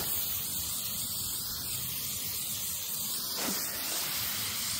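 Continuous close hiss of Sawyer Permethrin insect repellent sprayed from a pump bottle onto clothing, a steady aerosol-like rush lasting several seconds without a break.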